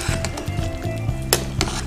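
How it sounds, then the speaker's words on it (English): A spoon stirs chicken vegetable soup in a pot, with soft sizzling and scraping punctuated by a few sharp clinks against the metal over a couple of seconds. "Now we're going to stir that up."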